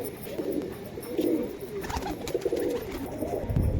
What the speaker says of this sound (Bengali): কামাগার পায়রা ফিমেল